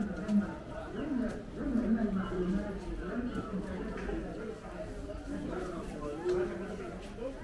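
Pigeons coo in soft repeated phrases in a busy Alexandria, Egypt street market, under steady crowd chatter and nearby voices.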